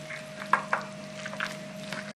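A spoon stirs a chilled, juicy sesame ball filling in a bowl, giving two distinct wet clacks followed by softer squishy scraping, close and fairly quiet over a steady background hum.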